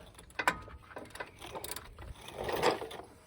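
A ratchet tightens 15 mm bolts on the front hub of a 2005 Ford Explorer XLT, producing a few short bursts of clicking and metallic rattling, close by, with brief pauses between them.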